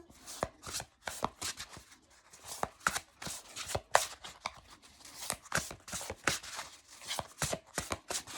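A large tarot deck being shuffled by hand, a fast run of crisp riffling card bursts repeating close up with brief pauses between them, no voices.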